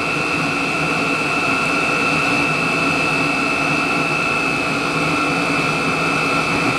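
A Chinese diesel heater running on HV46 hydraulic oil near the end of its startup sequence gives a steady, loud, close-up roaring whir with a constant high whine and no pauses.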